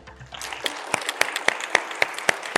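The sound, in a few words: warm applause for sponsor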